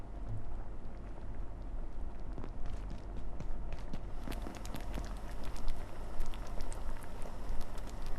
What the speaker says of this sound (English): Let that simmer down, let that boil.